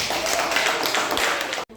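Classroom applause rings out as a dense burst of many hands clapping at once, loud and close, then cuts off abruptly near the end.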